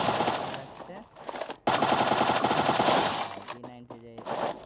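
Rapid P90 submachine gun fire in the Free Fire mobile game, loud sustained automatic bursts with a brief pause, then shorter bursts and tonal game effects near the end.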